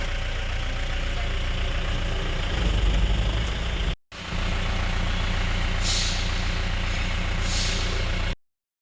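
Loaded concrete mixer trucks running, a heavy diesel engine drone that holds steady and loud throughout, broken by a brief cut midway, with faint hissing bursts near the end.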